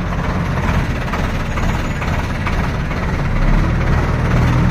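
A tractor engine runs steadily at close range, a low, continuous diesel rumble with slight rise in loudness toward the end, no talk over it.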